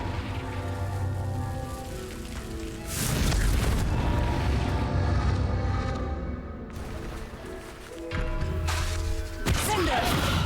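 Blasting spell impacts from the Confringo curse in a wizarding video game, heavy booming bursts near 3 s and 8–10 s set against a steady game music bed, with a voice shouting spell names around them.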